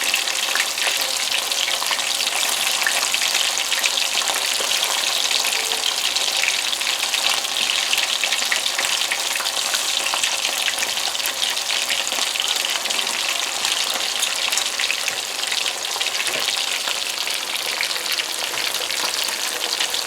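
Fish fillets shallow-frying in a pan give a dense, even crackling sizzle like steady rain, close and loud, running unbroken throughout with no speech.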